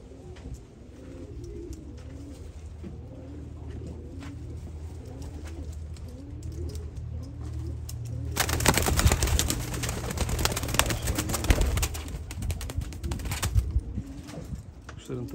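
Blue Çakal pigeons coo in repeated soft, low rolling phrases close by, joined partway through by a louder burst of rustling and wing noise, with a voice talking faintly in the background.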